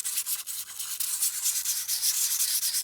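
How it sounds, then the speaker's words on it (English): A small Tim Holtz sanding disc rubs across thick paper in quick, rhythmic scratchy strokes, close and fairly loud, with no speech. "I'm going to try that sander on this thicker paper."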